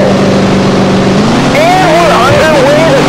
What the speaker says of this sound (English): Listen to those engines as we get ready to go.